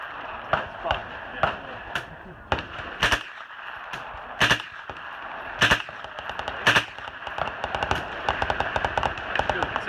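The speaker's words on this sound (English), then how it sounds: "I got to shoot it in the fixed barrel configuration on a UMP9" A UMP9 fires 9mm rounds through a suppressor in fixed barrel configuration, a series of single and quick paired muffled shots with sharp cracks, loud and close, while people talk quietly in the background between shots.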